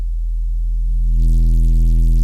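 Synthesized tone with distortion cranked all the way up: a loud, steady buzzing drone that grows thicker and harsher partway through as a gritty noise layer swells in, alone with no voices.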